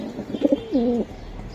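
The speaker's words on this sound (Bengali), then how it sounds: "ভাই এটা কি কবুতর এটা এটাও ভাইয়া রেসার হোমা" Racing homer pigeons coo up close, a rolling two-part call that swells and falls, with faint soft chirps just before it and no talking.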